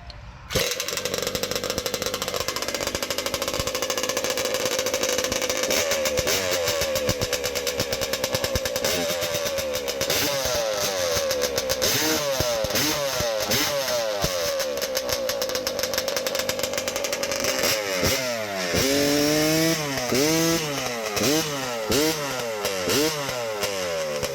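A high-revving racing chainsaw engine screams loudly and continuously, its pitch surging up and down as the throttle is blipped repeatedly.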